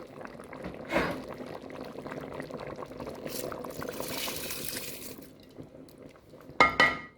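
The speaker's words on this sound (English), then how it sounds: "I'm gonna go ahead now and add my rice to the pot." Rice pours into a cooking pot for Jamaican rice and peas, a soft, grainy rush with a short clatter near the start and a sharper rattle near the end, fairly quiet and with no talking.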